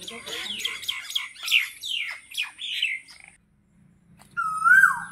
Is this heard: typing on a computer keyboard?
no